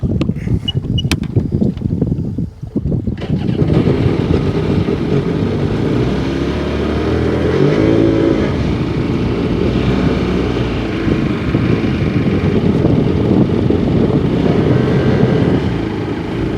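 Engine of a 2002 Sea-Doo GTX personal watercraft running steadily on the water after pump repairs, a loud continuous drone that holds for the whole stretch with no talk.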